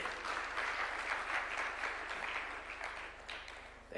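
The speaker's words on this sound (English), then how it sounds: "A round of applause for Mzee." A crowd applauds steadily for Mzee at a Kenyan presidential bill-signing ceremony. The dense clapping from a large audience holds for about four seconds, then thins toward the end.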